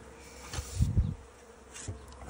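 Bees hum around an open beehive, with a close, steady buzz that rises in a couple of louder swells and then eases back to a constant drone.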